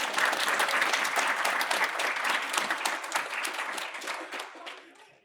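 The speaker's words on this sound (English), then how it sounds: "Can we give her a round of applause?" A room full of people applauding steadily at a program's final presentations, dense clapping that holds for several seconds before tapering off at the end.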